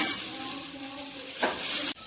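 Food fries in oil in a pan while being stirred, a close, steady sizzle with scraping spatula strokes and a brief metallic clink at the end.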